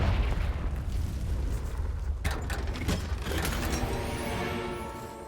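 Confringo fire spell blast in a Harry Potter video game: a loud burst around the two-second mark over constant game rumble, followed by crackling, popping debris and a lingering mechanical rattle.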